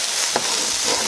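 Chicken pieces frying in olive oil in a hot pan, a short burst of steady crackling sizzle heard up close with no talking.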